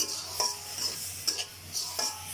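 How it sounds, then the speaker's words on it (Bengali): Polao rice stir-fried in a pan, with a spoon scraping and tapping against the metal in a few sharp strokes over a faint background hiss. "পোলার চাউলটা একটু অবশ্যই ভাজা ভাজা করবো কিছুক্ষণ ধরে"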